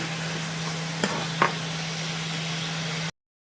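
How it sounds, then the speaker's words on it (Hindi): Chicken pieces for korma fry on full flame with a steady, close hiss, a low hum underneath and two short clanks partway through, with no voices. "तो ये देखिए ये मेरे फ्राई हो रहे हैं चिकन।"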